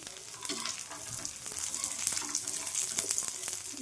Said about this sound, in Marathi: गावरान मी भाजून घेणार आणि खोबरे तेही भाजून घेणार छानपैकी